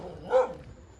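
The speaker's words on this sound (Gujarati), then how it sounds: "બાકી જો આવી ગયા કૂતરા." A single short dog bark rings out on a mountain road, moderately close and brief against quiet outdoor background.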